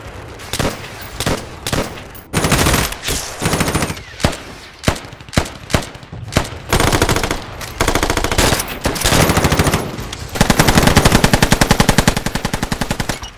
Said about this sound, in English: Tell him we're under fire from the north side.